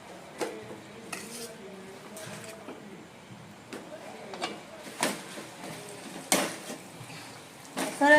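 Noodles with soy sauce are stirred in a pan in a home kitchen, giving soft, irregular scrapes and clinks of a utensil against the pan at close range.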